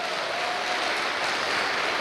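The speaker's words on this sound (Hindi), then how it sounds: "मैं चाहूंगा उनके लिए जोरदार ताली बजाइए।" An audience at a direct-selling motivational event applauds loudly for a newly named Diamond leader, a steady, dense wash of clapping from many hands, continuous and fairly close.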